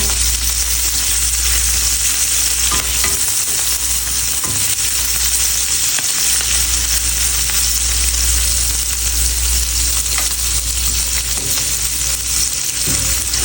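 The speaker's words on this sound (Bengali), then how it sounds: "চিংড়িটা হালকা লাল লাল করে আমি প্রথমে ভেজে নেব যাতে কালারটা সুন্দর লাগে" Shrimp fry in a pan of hot oil with a loud, unbroken sizzle and crackle, close up, with occasional scrapes from stirring.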